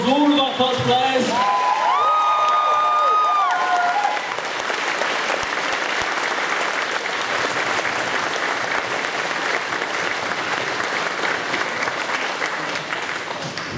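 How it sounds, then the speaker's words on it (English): Convention crowd applauding cosplayers at an anime convention closing ceremony, a loud sustained round of clapping and some cheers, with a voice sounding briefly over it at the start. "Let's have one extra round of applause for all of our cosplayers."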